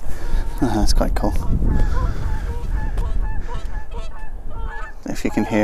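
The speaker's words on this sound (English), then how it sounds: "Oh, geese. Black and white geese. Canadian geese." Canada geese honk repeatedly on Thursley Common heathland, a flock calling in loud, overlapping nasal honks close by, with a steady outdoor background throughout.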